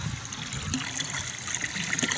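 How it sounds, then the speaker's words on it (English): Cold water pours over a Rottweiler during an outdoor bath, a continuous close splashing and gushing stream with small irregular bursts as it hits the dog's coat, no talking. "Look at that cold water on him."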